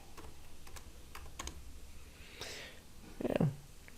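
Quick light keystrokes tapped on a computer keyboard, a few soft clicks alone in a quiet room, then a brief breathy snort near the end.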